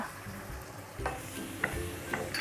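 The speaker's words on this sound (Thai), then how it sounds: "แล้วเราก็จะทำการเล้งไฟค่ะ เราจะผัดให้พริกหยวกนะคะสลดนะคะ" Pork liver and bell peppers are stir-fried in a pan with a splash of stock. Soft sizzling runs under spatula scrapes, with a few sharp clanks of the utensil against the pan.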